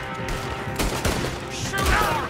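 Gunfire from the Red Dead Redemption 2 video game rolls in dense overlapping bursts, a loud continuous volley of shots mixed with game noise and a voice beneath.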